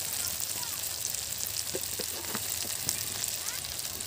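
Spices sizzling in oil in a pan after tomatoes have cooked down, a steady close frying hiss with small crackles throughout.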